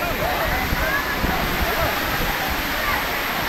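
Water ride at an amusement park in Queensland, Chennai, splashing in a dense, continuous rush like a waterfall, loud and close, with voices talking underneath.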